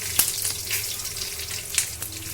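Garlic cloves, bay leaves, black pepper, cloves, cinnamon and green cardamom fry in hot oil with a steady close sizzle, broken by two sharp stirring knocks as they are moved around the pan.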